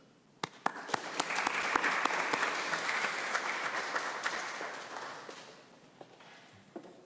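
An audience applauding to welcome a speaker to the stage, a steady wash of clapping with a few sharp individual claps that swells, then fades out after about five seconds.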